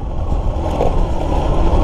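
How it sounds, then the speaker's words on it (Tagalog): A Suzuki GD110 motorcycle engine runs steadily and loud, a continuous close drone with a low rumble, and no voices. "Ganda naman ang ano, takbo ng motor ko"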